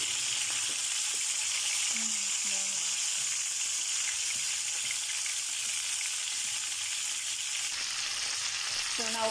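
Garlic and onion sizzling in a hot pan for chicken adobo, a continuous bright crackle of frying with faint stirring clinks underneath.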